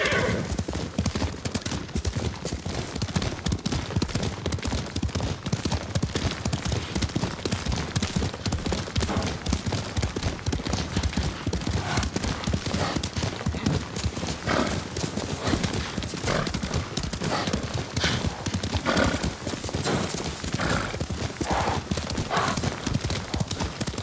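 Horse hooves galloping in Ghost of Tsushima, a steady, loud, rapid clatter of hoofbeats continuing unbroken for the whole stretch, with occasional snorts and whinnies over it.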